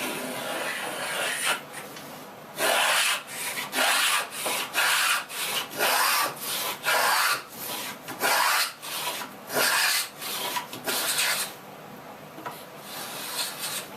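Repeated rasping strokes of a hand plane shaving wood, about a dozen even passes in steady rhythm, close and fairly loud.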